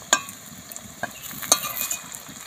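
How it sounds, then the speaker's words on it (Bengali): Flattened rice and vegetable snack frying in a pan over low heat, a soft steady hiss punctuated by a few sharp clinks and pops of a utensil stirring, close and fairly quiet. "এবার অল্প জাল দিয়ে ভেজে নেব, আস্তে করে উল্টে দেবো।"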